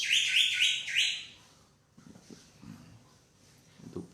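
Pet bird chirping and singing in rapid bright bursts for about a second, then fading to faint low room sounds and murmur.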